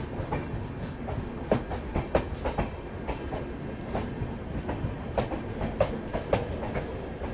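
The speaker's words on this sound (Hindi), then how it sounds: "श्रमजीवी एक्सप्रेस ओवरटेक करती हुई।" The Shramjeevi Express rolls past the Lucknow Mail with a steady rumble and repeated clickety-clack of wheels over rail joints, a close, continuous train passage without voices.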